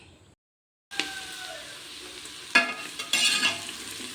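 Vegetables and fennel seeds fry in hot oil in a pan for a vegetable pulao, a steady close sizzle with a couple of sharper bursts as pieces hit the oil or are stirred, after a brief silent start.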